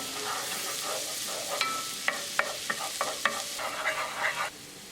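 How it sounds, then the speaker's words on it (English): Ginger, garlic and green chili paste frying in melting butter in a pan, a constant soft sizzle with several sharp clinks and scrapes of stirring, close and clear with no talk. "Cook ginger, garlic, green chili paste until the butter is nicely melted."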